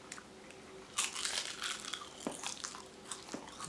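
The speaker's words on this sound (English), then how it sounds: "I'm gonna open some seaweed." A seaweed snack pack is crinkled open and the sheets are crunched nearby. The crackling plastic rustle and crisp crunches sound in irregular bursts, with no voice.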